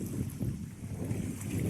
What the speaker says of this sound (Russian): Ветерочек дует.